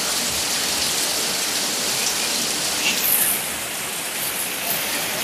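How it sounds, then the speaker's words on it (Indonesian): Heavy tropical rain pours down steadily during a journey near Samata, a dense, loud, unbroken hiss of water with no voices. "Ini lumayan deras dan hujan kali ini"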